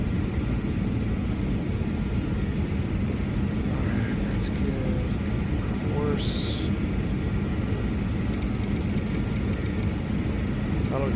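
BAe 146 jet on a night flyby in a flight simulator near Hong Kong, a steady broad engine rumble holding throughout at even loudness, with faint talk mixed in underneath.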